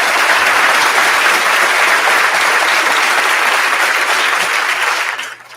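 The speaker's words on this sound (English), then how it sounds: "They deserve a round of applause." A crowd applauds at a CMSD middle school grade 8 moving up ceremony: loud, dense, sustained clapping that carries on steadily before fading away at the very end.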